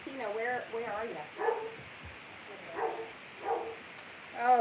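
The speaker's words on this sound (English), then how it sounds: "Oh, these dogs." Dogs in a home craft room give a run of yips and short barks in irregular bursts, moderately close.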